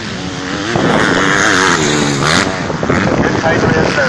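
Race cars at the Billy Hutton Memorial auto race drone and rev loudly in a continuous engine roar, pitch rising and falling as they pass, under a commentator's steady talk.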